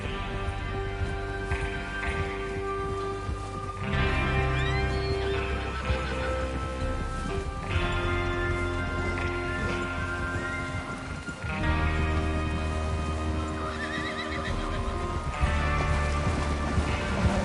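Horses neigh and whinny repeatedly over clip-clopping hooves in the Red Dead Redemption 2 video game, with a steady game soundtrack running beneath and no one talking.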